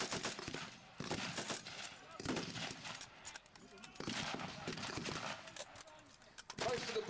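Rifle and machine-gun fire at a Second World War battle reenactment, British troops with Lee-Enfield rifles facing German fire; bursts of shots crackle through the clip at a moderate distance while someone talks over them.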